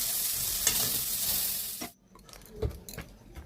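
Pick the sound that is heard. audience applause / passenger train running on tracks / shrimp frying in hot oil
shrimp frying in hot oil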